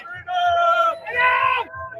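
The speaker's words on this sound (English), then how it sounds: "That's a fantastic crowd" A large, dense crowd on Bank Street in downtown Ottawa on Canada Day cheers and yells in loud surging bursts, two sustained roars with a brief dip between them, close and continuous.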